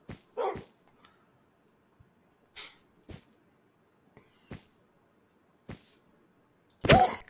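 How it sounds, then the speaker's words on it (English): A dog in the Minecraft video game yelps in short, sharp bursts spread across several seconds, with near-silence between the cries and a louder final yelp. "I don't want to hear the dog yelp."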